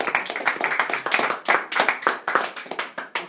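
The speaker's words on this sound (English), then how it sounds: "Let's give them a round of applause." A small group of people clapping in short uneven bursts at a school show, the separate claps close and distinct, rising and fading in waves over a few seconds.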